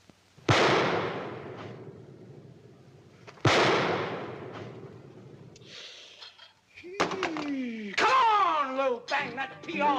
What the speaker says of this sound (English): Now lift up that pistol and shoot.